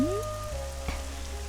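Steady rain falling in a film scene, a continuous soft wash of drops on surfaces alongside a low background hum, with a brief tonal sweep at the start and no talking.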